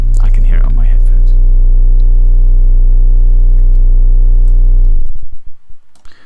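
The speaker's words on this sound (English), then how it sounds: "Even at its highest value, it's a really low rumble." A Softube modular synth LFO turned up to its highest value gives a loud, steady low rumbling drone that holds for about five seconds, then cuts off abruptly, leaving a faint decaying tail.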